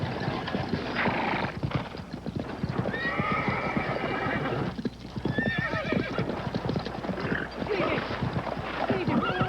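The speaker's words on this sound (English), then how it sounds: "The horses were running away very fast." A team of horses running away at a gallop with dense, rapid hoofbeats while neighing and whinnying rise above them, loud and close, with voices mixed in.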